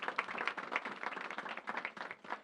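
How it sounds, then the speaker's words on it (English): Audience members at a government press announcement clap in a quick, even round of applause lasting a couple of seconds, with no talk over it. "Let's give them a round of applause."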